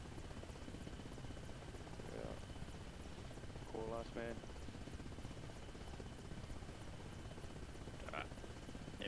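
A helicopter in the video game Arma Reforger, a steady loud rotor drone filling the whole stretch, with brief radio voices over it.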